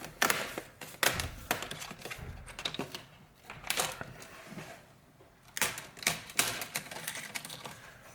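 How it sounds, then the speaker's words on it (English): Plastic display trim being pinched and pried off an HP ProBook 650 G4 laptop, a series of sharp clicks, snaps and crackles in irregular bursts with brief pauses, close by and without talk. "if we simply work around it and just keep pinching and pulling up"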